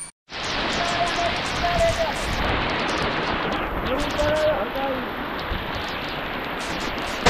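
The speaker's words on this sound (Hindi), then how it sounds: "बारिश हो रही है" Steady, dense rain falls on a hillside trail at Matheran, Maharashtra, a continuous broadband hiss that stays loud and even throughout, with faint voices partly beneath it.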